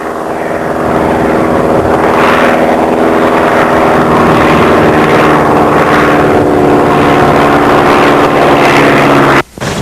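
A floatplane's propeller engine drones loudly and steadily on the water as it taxis and swings around downwind, the tone swelling and easing slightly before a brief cut near the end.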